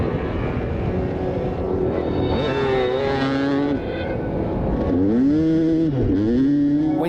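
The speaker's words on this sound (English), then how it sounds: "The bike's running a bit smoother" A motorcycle engine with a slipping clutch runs steadily close by, its tone rising and falling in several revving surges with no talking.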